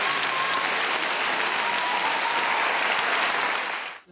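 Philharmonic members and a concert audience give resigning director Ivan Tasovac dense, sustained applause before a concert, a steady roar of clapping that tapers off at the very end.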